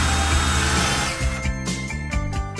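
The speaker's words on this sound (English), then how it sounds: "Once you've drilled the pilot hole, it's time to put a countersink" A power drill spins a countersink bit into cabinet wood during a ready-to-assemble cabinet install, a loud steady grinding whir that bites in with a few rough pulses near the end.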